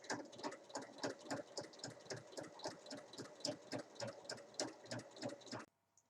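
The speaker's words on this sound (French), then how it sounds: "faire une surpiqûre le long de ma fermeture à 1 mm du bord du tissu" A sewing machine topstitches along a zipper on a small lined fabric pouch, running in a fast, even mechanical chatter of needle strokes for several seconds before stopping abruptly, close and alone.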